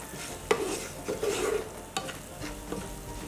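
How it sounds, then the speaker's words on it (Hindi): Green chilli and finely chopped ginger lightly frying in a pan for a Punjabi samosa chaat filling, giving a steady close sizzle broken by a few sharp stirring clicks and scrapes, with no talk. "करारा करने के लिए हरी मिर्च और बारीक कटी हुई अदरक। इसे लाइटली हम भूनेंगे।"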